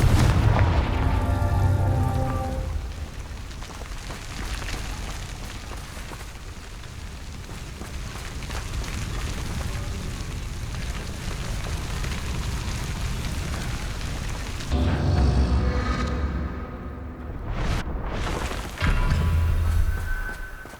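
Explosion spells cast in Hogwarts Legacy, a sustained roar of booming blasts and rumbling debris that surges at the start and again near the end, loud and dense with no talk.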